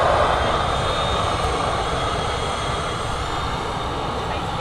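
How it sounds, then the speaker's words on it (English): An easyJet Airbus A320 departs Manchester Airport for Nice, its jet engines producing a loud, steady broadband roar that holds throughout and eases slightly toward the end. "Easy 320 on the way out to Nice"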